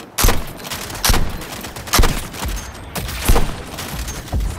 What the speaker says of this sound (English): Bullets are just pinging off the big bastard!